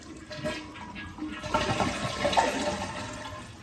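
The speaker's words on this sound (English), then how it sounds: "Then we need to drain the tank, and that just means flushing it." A household toilet is flushed to drain its tank: a steady rush of water that swells louder about halfway through and keeps gushing to the end, close and alone.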